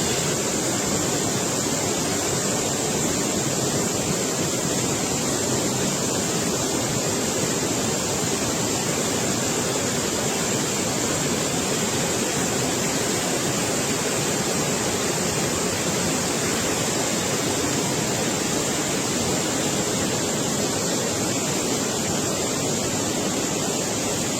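The Bief de la Ruine waterfall in the Gorges de Malvaux, Jura, roars continuously with strong flow, a dense, steady rush of water with no pauses and no voices.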